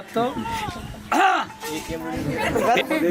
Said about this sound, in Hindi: खांसो एक बार और